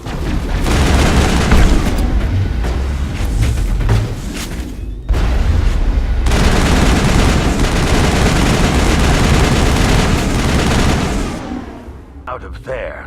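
Mass Effect firefight: loud, dense gunfire with booming blasts and rapid automatic bursts runs almost without a break. It drops out briefly once, then fades near the end.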